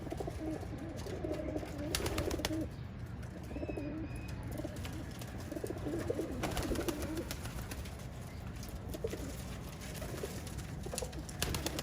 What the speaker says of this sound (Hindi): ये जी ये कबूतर हैं जिनके हमने पर खींचे थे